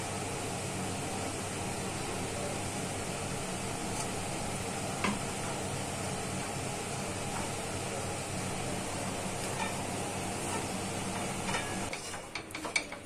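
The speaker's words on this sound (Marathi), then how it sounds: "बारीक गॅसवर आपण भाजून घेऊया, जसं तूप लागेल तसं आपण याच्यात टाकूया" Gram flour roasts in ghee over a low flame for besan ladoo, a quiet, even sizzle with faint spoon scrapes and ticks from stirring, growing a little busier near the end.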